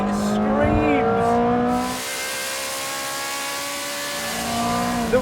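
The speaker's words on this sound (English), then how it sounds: "the noise from that V8 engine" Ferrari 360 Challenge Stradale V8 screaming at high revs, a loud rising engine tone with harmonics climbing, easing briefly then building again, close and raw, with a voice over the start.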